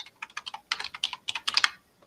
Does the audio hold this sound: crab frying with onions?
no